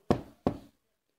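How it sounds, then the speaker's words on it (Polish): Two firm knocks on a door, spaced apart, each sharp and close with a short decay, followed by silence. "Stuk puk."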